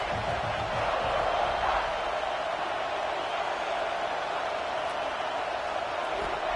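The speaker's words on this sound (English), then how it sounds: "This crowd bringing the energy and noise early." A steady wash of stadium crowd noise in a college football video game, a broad continuous roar from a large audience with no clear breaks, heard at moderate distance.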